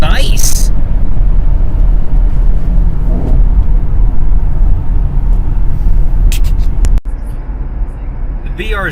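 Loud, steady road rumble from inside a running Hyundai Veloster Turbo, an even low drone throughout with a few brief voices and clicks.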